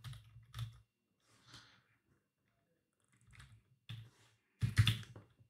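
Computer keyboard typing in a quiet room, a few short bursts of soft clicking keystrokes separated by pauses, close and faint.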